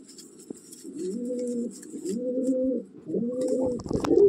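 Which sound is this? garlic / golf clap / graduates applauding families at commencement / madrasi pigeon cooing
madrasi pigeon cooing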